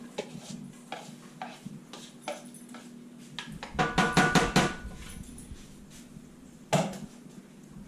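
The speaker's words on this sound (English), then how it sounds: "the first thing I'm going to do is saute some onions" Onions sauteing in a pan for chorizo cornbread, heard as soft scattered clicks and stirring scrapes that give way to a denser burst of sizzle and clatter midway, then a single sharp knock near the end.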